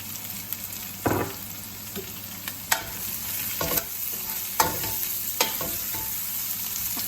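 Onions frying in a pan for egg curry, stirred with a spatula: a steady close sizzle under irregular scraping strokes and clicks against the pan, with no talking.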